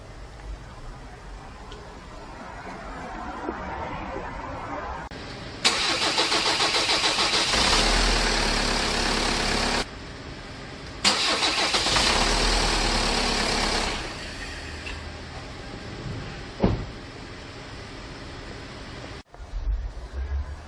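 Kia Sorento R diesel engine cranking with a delayed cold start: the starter churns in two long bursts, pausing between, before the engine finally catches and settles into a rough idle.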